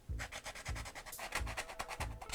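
Rhythmic scratchy rubbing of a sanding sponge on a 3D print, quick repeated strokes at a steady pace, close and fairly quiet.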